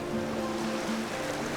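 Sea waves wash gently along the Galician coast, a steady soft surf noise with a faint tonal hum, continuous and fairly quiet throughout.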